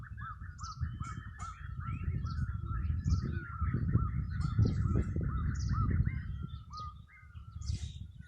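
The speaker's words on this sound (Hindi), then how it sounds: "ये चिड़ियों की चहचहाहट" After rain, many birds call and chirp continuously, a busy chorus of overlapping cries over a low rumbling background of wind or distant noise.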